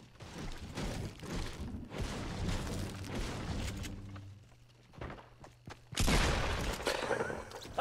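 A pump shotgun blast in Fortnite booms out sharply after a stretch of footsteps and game noise, loud and close, with faint voices earlier on.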